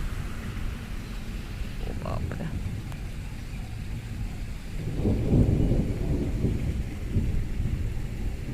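Heavy rain pours steadily while thunder rumbles low, growing louder and closer midway through, in a storm with strong winds.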